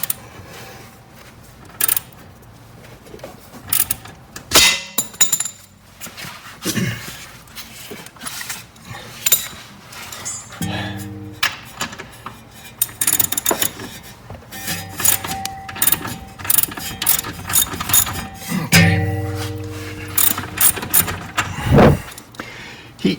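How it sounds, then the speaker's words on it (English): A ratchet and socket work at a bolt on the rack and pinion of a 2013 Toyota Avalon, giving irregular metallic clicks, clanks and scraping bursts close up, with short pauses between efforts. "We should be able to crank this off."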